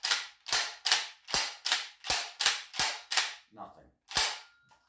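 An Adler Arms A-110 12 gauge lever-action shotgun is cycled, producing about ten sharp, close metallic clacks in a quick, even rhythm, with one softer rattle near the end.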